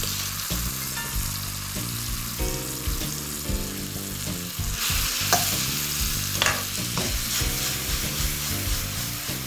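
Cooked pasta with pancetta is stirred in a hot pan, the sizzle of frying running steadily under repeated scraping stirs; close and continuous, no talk.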